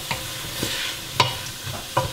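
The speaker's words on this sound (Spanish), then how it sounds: "Voy a agregar la cebolla para que se cocine." Onion sizzles softly in a pan while a spoon stirs it, with a few light scraping knocks over the quiet, steady frying.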